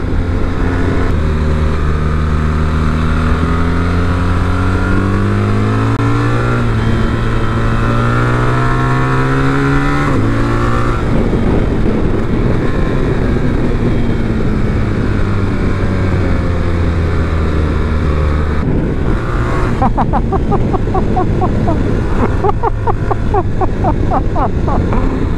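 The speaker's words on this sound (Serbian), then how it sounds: "Kako pucketa, šta bi bilo tek da nema ove silne katalizatore, kako bi onda se čuo ovaj motor nenormalno moćno." A 2024 BMW R1300GS Trophy motorcycle engine drones loudly while riding, its pitch rising and falling through gear changes, with wind noise over it and some crackle as it lets off.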